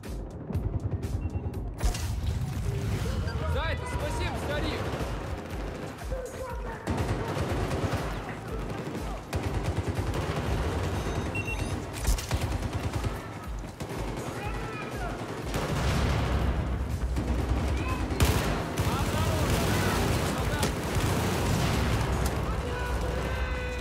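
Gunfire on the Operation Locker map in Battlefield 4, with near-constant rattling shots, bursts and booming explosions layered in a chaotic firefight that runs the whole length, with voices now and then underneath.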